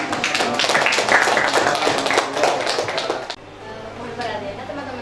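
Audience clapping at a university teacher-training session, a dense burst of hand claps with voices mixed in that cuts off abruptly partway through, leaving quieter room sound and talk.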